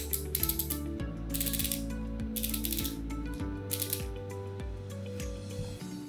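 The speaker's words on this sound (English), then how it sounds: "Turn the knob clockwise until you start feeling relief." A BOA fit dial on a knee brace is turned clockwise in several short bursts of quick ratcheting clicks, spaced about a second apart, over a steady musical background.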